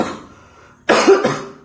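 After a soft breathy lead-in, a single loud, close cough bursts out, followed by a brief rough second push before it trails off.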